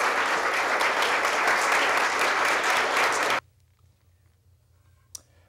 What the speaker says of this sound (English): Please give the candidates a very loud round of applause.